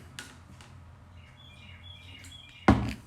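Small birds chirp and tweet outdoors at a live concert, the calls faint and scattered over low background noise, with a sudden loud knock near the end.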